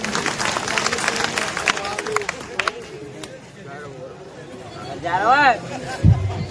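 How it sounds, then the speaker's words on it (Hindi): An audience claps at a live singing programme, a dense patter of applause in the opening seconds amid crowd babble, then it fades under nearby voices and chatter. "ताली बजा दो भैया"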